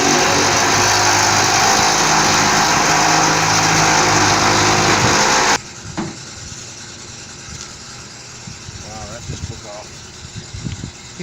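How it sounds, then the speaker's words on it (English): A Sawzall reciprocating saw cuts through truck bed rails, a loud harsh buzzing that stops abruptly midway, followed by quieter clanks, scrapes and handling noises. "use the Sawzall to remove that"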